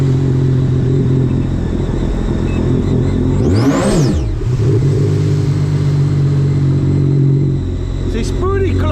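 A Sea-Doo RXP-X Stage 3+ jet ski engine idles with a loud, steady drone, then is blipped once on the throttle, revving sharply up and falling back to idle, with a brief clatter near the end.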